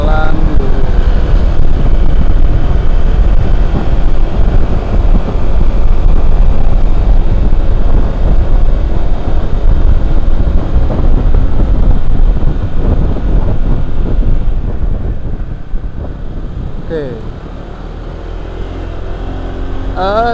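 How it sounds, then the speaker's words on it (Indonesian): A 2019 Honda ADV 150 motor scooter ridden along a road toward Cisarua, with a loud steady engine drone and heavy wind rumble throughout that eases slightly near the end. "Saat ini kita menggunakan motor Honda ADV 150 ya teman-teman, tahun 2019"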